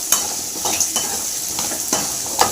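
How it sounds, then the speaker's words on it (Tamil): Onions frying in a pan for egg curry, a steady close sizzle broken by several scraping stirs of a spoon at irregular intervals, with no talking. "நல்லா வெங்காயம் வதங்கணும்."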